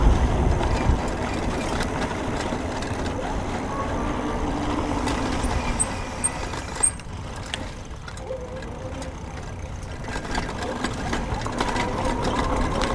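Qronge Mirage e-bike motor working up a hill, a steady mechanical whir and hum under wind noise, continuous and fairly loud with a few faint clicks and bumps.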